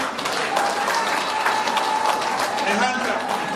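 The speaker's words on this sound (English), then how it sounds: "Can we give a hand to ourselves?" Audience members at a fundraising evening clap together in a dense, even burst of applause, with voices faintly mixed underneath.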